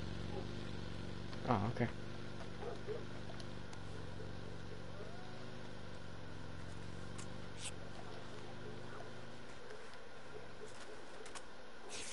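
A vehicle engine in PUBG hums steadily and close, with a rising whine as it speeds up, under brief talk from a player near the start.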